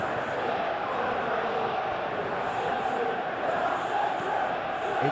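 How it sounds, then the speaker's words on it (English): A simulated stadium crowd roars and cheers in a football video game's FA Cup final between Chelsea and Manchester City, a steady, dense wash of crowd noise throughout. "Well, the crowd clearly like what they just saw."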